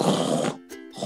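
A voice imitates a dog snoring loudly in a children's story, with one rough, grunting snore followed by a short breathy snort.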